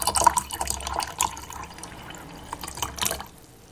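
Tea poured into a cup, a close trickling and dripping stream with small splashes and clinks, fairly loud at first and then trailing off.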